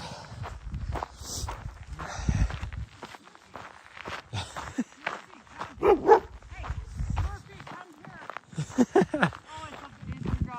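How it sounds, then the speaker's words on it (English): A dog barks and yips a few times on a chilly-morning trail run, mixed with footsteps and people talking nearby. "Yeah, that's my dog."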